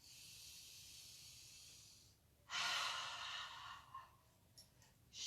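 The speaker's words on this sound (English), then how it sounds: "And exhaling on the way down." A slow, breathy exhale during shoulder roll stretches, a close hiss of air that starts abruptly, tapers off, and is followed by softer breaths.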